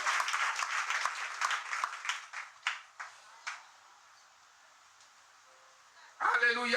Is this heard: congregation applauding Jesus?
yes